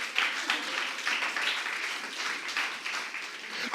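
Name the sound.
church congregation applause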